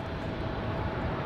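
Alaska Airlines jet taxiing for departure at night at Raleigh-Durham International Airport, a steady broadband engine rumble and whine held at even loudness throughout, fairly distant with no voices over it.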